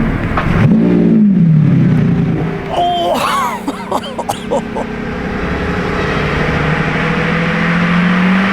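A Lamborghini engine fires up near a parked Urus and revs hard, a loud throaty burst that settles into a steady idle drone.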